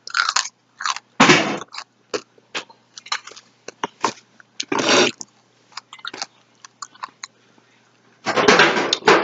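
A person bites and chews crunchy food close to the microphone, with several sharp loud crunches among quieter chewing and crackling in between.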